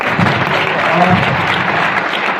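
Meeting audience applauds in a continuous, even wash of clapping, loud and close, with a faint voice briefly underneath.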